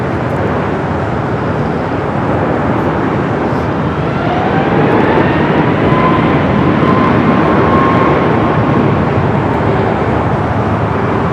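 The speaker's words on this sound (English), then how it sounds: "The 747-8 Intercontinental, 9 years of age." A Boeing 747-8 Intercontinental, nine years old, arriving as a heavy at a large airport: a loud, sustained jet roar with sliding whine tones that swells slightly midway and stays strong to the end.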